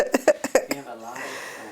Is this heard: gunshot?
no